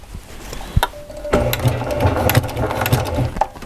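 A Baby Lock Accomplish sewing machine stitching up to a corner, a close, busy mechanical whir with rapid rhythmic needle thumps and clatter.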